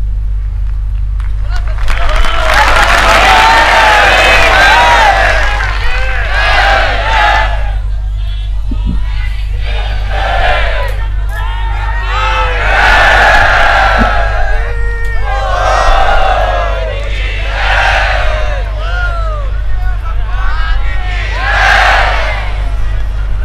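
A large crowd at a religious gathering in Noida breaks into repeated bursts of loud chanting and cheering, rising and falling in waves over a steady low hum.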